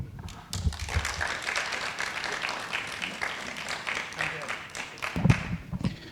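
Audience applause at a district candidates night, a spread of hands clapping through the room at moderate volume, with some voices mixed in.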